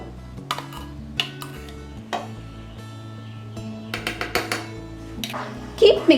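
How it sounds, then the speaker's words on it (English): Butter chicken gravy with fresh cream stirred in a pan over a low flame: repeated soft spoon clinks and scrapes against metal, close by, over a steady low background hum. "Keep mixing it well on slow flame for around 2 minutes."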